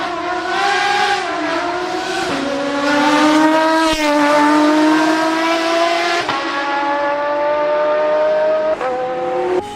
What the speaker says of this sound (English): it's an amazing sound of that V12 engine.